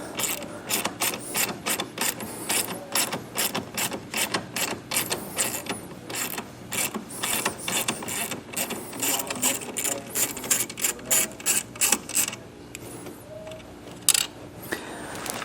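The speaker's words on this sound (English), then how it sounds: "I'm going to use the 13mm socket to get this nut off." A ratchet with a 13mm socket removing a nut during installation of an Air Lift WirelessONE compressor system on a 2025 GMC, a rapid run of sharp clicking strokes in bursts, close and loud, with brief pauses.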